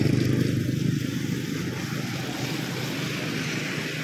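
Motorcycles, cars and tricycles crossing a bridge over the Agno River in Urbiztondo, Pangasinan, heard as a faint, continuous rumble of passing engines with low road noise and no clear individual pass-bys.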